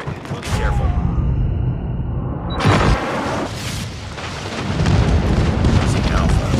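Enemy napalm strike in Call of Duty Mobile on the Nuketown map, a loud rumbling roar of blasts and crackling fire with booming bursts, continuous and close, with game voice lines over it.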